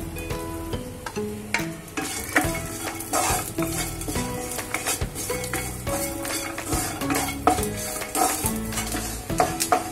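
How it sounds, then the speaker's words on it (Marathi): Coconut pieces are stir-fried in a pan, with a busy, continuous run of spoon scrapes and clatter over a light sizzle, close up and without talk. "आपण पहिले हे खोबऱ्याचे तुकडे परतून घेऊ।"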